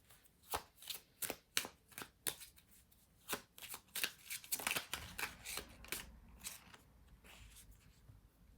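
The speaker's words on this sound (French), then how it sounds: "on va tirer une carte" Tarot cards being shuffled and drawn by hand: a run of crisp papery riffles and flicks, quick and evenly spaced at first, then a denser burst of handling and softer slides, close and fairly quiet with no talking.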